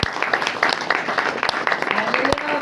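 A church congregation at a Saturday prayer meeting claps together in a brisk, uneven burst of applause, close and fairly loud, with voices mixed in.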